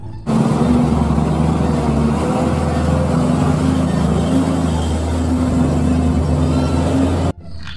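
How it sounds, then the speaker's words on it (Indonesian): A big tow truck's engine runs loud and steady, a sustained droning whir with a faint tonal hum, starting suddenly and cutting off near the end. "yang ini truk towing."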